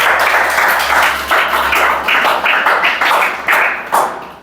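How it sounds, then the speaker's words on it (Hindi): A room of students in a Chhattisgarh police-recruitment coaching class claps together, producing a steady wash of dense applause with rhythmic swells roughly every half second, fairly loud and close, fading toward the end. "तो ताली बजाओ इसके लिए, कोसली के।"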